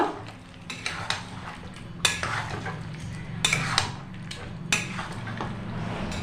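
Chicken stirred in a pot with the lid lifted, a series of clattering scrapes and spoon knocks against the pot over a low background sizzle, several distinct strokes, with no talking.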